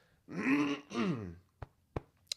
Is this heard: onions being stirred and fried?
no